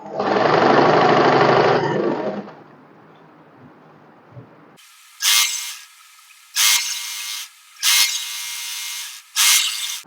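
A sewing machine stitching cotton fabric for a summer one-piece, running in a loud steady burst at first, then a quiet pause, then four short, sharp bursts of stitching with gaps between.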